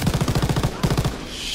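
Rapid machine gun bursts in the Call of Duty WWII video game, two quick strings of punchy shots separated by a brief gap, loud and close.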